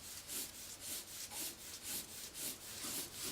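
A pencil shades lightly across paper in one direction, soft rhythmic scratching strokes repeating about every half second, close and faint with no voices.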